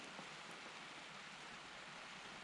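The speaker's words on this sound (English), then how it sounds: "Rain again." Morning rain in Norfolk falls in a soft, steady wash of hiss, faint and even throughout, with no distinct drops standing out.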